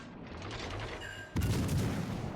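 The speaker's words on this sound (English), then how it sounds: "just the good chunky damage that you can do with these AP shells" AP shell gunfire from the Pozharsky warship in World of Warships Legends: a low rumbling volley builds under game noise, then a heavy boom hits at once and a dense, sustained roar of shots follows.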